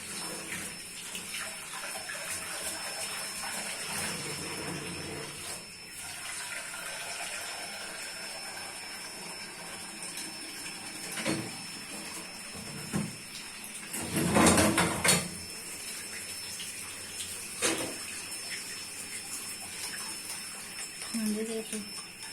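Water runs and splashes into a cooking pot (handi) in a kitchen, a steady gushing flow with occasional clanks and brief surges, while people talk over it.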